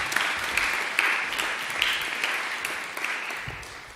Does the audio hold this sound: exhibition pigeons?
no